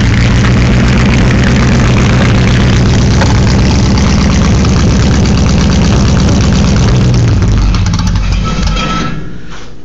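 A Chevrolet C10 pickup truck engine under restoration runs loud and close with a heavy, rough, continuous rumble that is nearly out of gas, faltering and fading in the final second.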